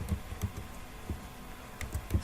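Keys are pressed on a computer keyboard in a quiet room, a sparse, irregular series of soft, close clicks with short pauses between them.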